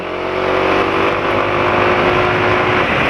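A motorcycle engine running on Axson 10W40 full synthetic oil and Pertamax fuel holds a steady, loud rev, a continuous buzzing drone with strong harmonics close to the microphone and no pause for three seconds.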